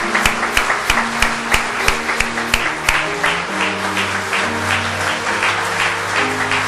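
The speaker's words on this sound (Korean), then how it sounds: "박수하시겠습니다." A church congregation applauds during a pastor's anniversary and retirement service, with dense, sustained clapping from many hands and sharp individual claps standing out throughout.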